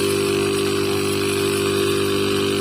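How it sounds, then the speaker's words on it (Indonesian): A repaired refrigerator compressor motor runs steadily, a continuous close mechanical hum with a strong tonal buzz and dense whirring noise, unchanging throughout with no voices. "Mesin kompresor kembali aktif. Motor berputar ya."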